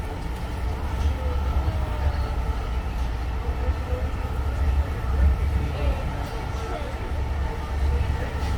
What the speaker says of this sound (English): we hopped back on the train and headed back down to Philadelphia